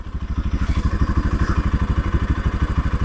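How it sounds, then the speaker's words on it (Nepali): Motorcycle on a rough rural track with its silencer hitting the ground, the engine throbbing in a steady fast pulse up close with rattling clatter on top. "साइलेन्सर गयो मेरो चाहिँ है।"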